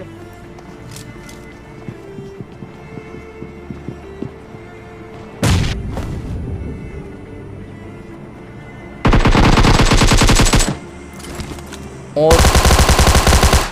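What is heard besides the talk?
gunfire from a battle royale video game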